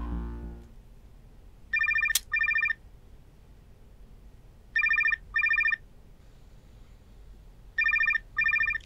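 A telephone rings in three evenly spaced bursts, each a pair of electronic trills, loud and clear over a quiet room with no talking.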